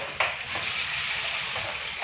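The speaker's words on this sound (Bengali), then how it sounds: "এবার আলু ভাজা হইলো" Potatoes fry in a pan with steady oil sizzle and crackle, plus a few faint stirring scrapes, close and continuous with no talk.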